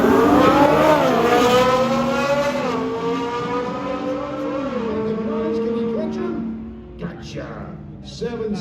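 A Ferrari 458 and a Nissan Z launch off the line in a drag race, engines roaring loud and close with rising pitch that steps through several gear shifts before fading, a commentator talking over the run.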